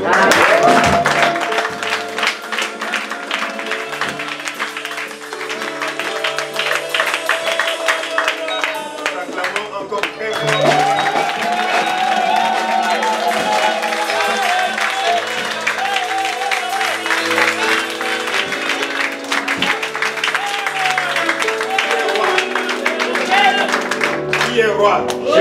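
A church congregation claps and cheers loudly and steadily during a French-language worship service, the applause blending with music and voices throughout.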